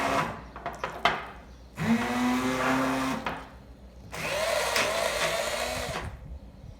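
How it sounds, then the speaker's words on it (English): A blender mixing yoghurt for shrikhand whirs in two bursts, whining up and grinding steadily, separated by a pause and preceded by a few clicks and knocks. "We are going to mix with the blender, taste it and then add if we require some more."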